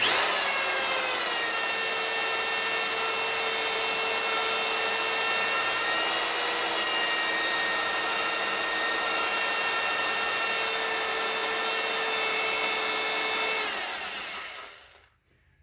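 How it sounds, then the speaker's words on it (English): A drill grinds steadily into a metal engine casting on a GM 2.4 Twin Cam engine for a long stretch, a continuous whining tone with rough scraping texture, then cuts out abruptly at the end. "We start off small with this drill bit, and then we gradually increase the size until we reach a half inch drill bit"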